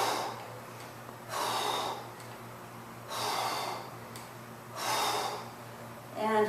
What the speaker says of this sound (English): Here, exhale.